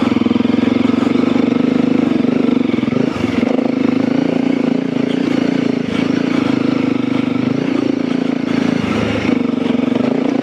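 A Honda CRF300L motorcycle fitted with a 42-tooth rear sprocket, ridden steadily in third gear, with a loud, continuous engine drone and small rises and dips in revs, plus wind rushing past the rider.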